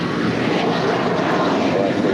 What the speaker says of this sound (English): That was American 475 departing to Chicago. It's an 8-year-old Airbus A321.